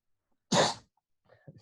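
A single loud, close sneeze bursts out alone in an indoor podcast setting, followed by faint low rustling and breath.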